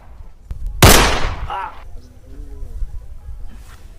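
A single sharp gunshot cracks loudly in a Hindi patriotic short film set at the border and fades quickly, with a voice speaking just after.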